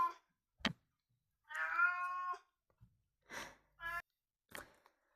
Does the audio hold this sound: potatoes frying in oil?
no